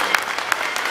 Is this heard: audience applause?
yes